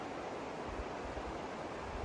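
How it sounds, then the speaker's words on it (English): Steady broadband rushing of water flowing below a cliff face, continuous and even throughout, with no voices. "And you can hear the water down below."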